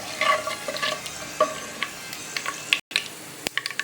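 Dried red chillies frying in hot oil with popping mustard seeds, fenugreek and cumin for a vatha kuzhambu, a close sizzle with sharp crackles and spoon-scraping stirs, ending in a quick flurry of pops.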